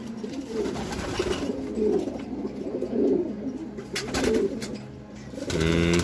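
Pigeons in a loft give repeated soft, rolling coos in rhythmic bursts, close but gentle, with light rustling and a brief flutter near the end, no voices.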